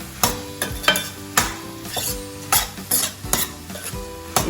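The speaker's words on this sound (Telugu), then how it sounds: "ఈ సాల్ట్ వేసాం కదా, మొత్తం కలిసేలా కలుపుకోవాలి" A spoon stirs ridge gourd prawn curry in a pan after salt goes in, with about a dozen sharp scraping clanks in an irregular rhythm over a soft sizzle, close and clear, with no talking.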